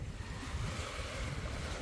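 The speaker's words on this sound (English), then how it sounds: "Just hear the waves." Ocean surf rolls steadily onto an island beach in Coron, Palawan, a continuous broadband wash with some wind rumble, close and moderately loud with no talking.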